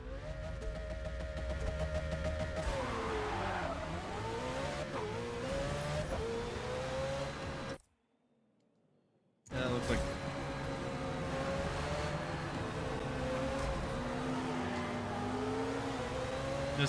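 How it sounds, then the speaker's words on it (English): A Ferrari 488 GT race car's engine drones and shifts pitch steadily on the Le Mans track in a racing game, cutting out briefly to silence partway before resuming. "we're going to be trying the Ferrari 488, the GT one"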